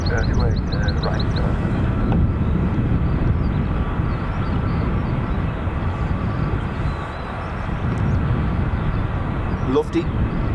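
A Lufthansa Airbus A320neo taxis at Dublin Airport, a steady broad engine rumble holding at moderate distance for the whole stretch, with a few faint chirps near the start.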